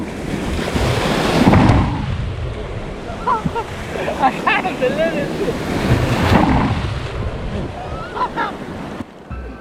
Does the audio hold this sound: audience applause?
no